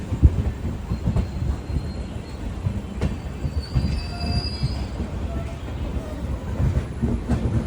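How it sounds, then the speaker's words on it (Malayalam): Passenger express train pulling into Madurai Junction station in India, a low rumbling rolling noise with faint metallic wheel squeal and clatter, heard from aboard the sleeper-class coach amid steady ambient station noise. "മധുരൈ ജംഗ്ഷൻ റെയിൽവേ സ്റ്റേഷനിലേക്ക് ഇതാ നമ്മുടെ ട്രെയിൻ എത്തിക്കൊണ്ടിരിക്കുകയാണ്"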